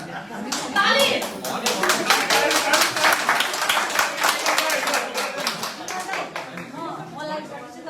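Audience at a Bhanu Jayanti literary celebration in Boston applauds for a poet, a dense, steady burst of hand clapping that swells quickly and continues strongly, with scattered voices underneath, before tapering slightly near the end.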